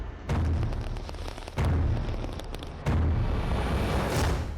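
Green firecrackers bursting during Diwali in Delhi NCR, three loud, heavy booming blasts in succession, each followed by a sustained rumbling roar and crackle.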